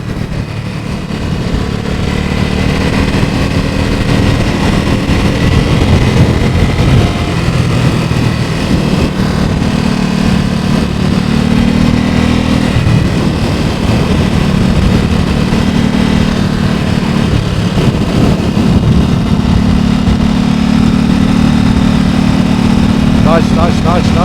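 Ducati Supersport S motorcycle under way with its quick shifter, a steady loud engine drone with brief overrun burbles and rattling mirrors, running continuously while a rider talks over it.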